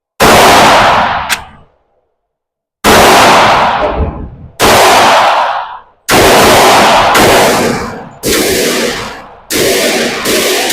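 Loud, close gunshots from a Glock pistol firing .45 ACP at an outdoor range, a string of about eight sharp cracks with ringing tails, spaced irregularly with pauses between, no voices.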